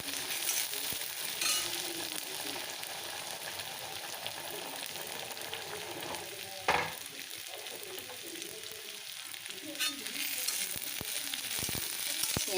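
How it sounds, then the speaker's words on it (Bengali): Onions frying in a pan for a home-style leafy greens dish, a steady close sizzle and crackle throughout with occasional stirring scrapes and clatters. "দেখো পেঁয়াজটা ভাজা ভাজা হয়ে যাবে"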